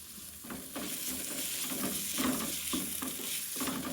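Tomatoes fry in a masala with Kashmiri chilli, giving a steady, close sizzle. Soft stirring strokes scrape through it at an uneven rhythm.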